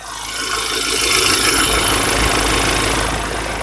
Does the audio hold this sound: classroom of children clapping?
no